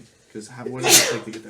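A single loud sneeze bursts out near the middle of a short stretch of conversation around a tabletop game, with voices talking before and after it.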